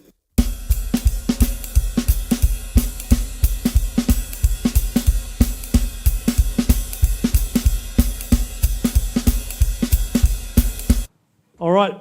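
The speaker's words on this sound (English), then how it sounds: "But the whole thing in a faster tempo, it'll sound like this." Jazz drum kit groove played at a brisk tempo, steady ride cymbal pattern over bass drum and snare accents, close and loud for about eleven seconds, then stopping into near silence.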